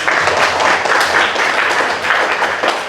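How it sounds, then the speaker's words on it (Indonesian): A classroom audience gives a group a short round of applause during a teacher-training arts session, with steady, dense clapping and a few thumps lasting about three seconds. "Kasih tepuk tangan untuk."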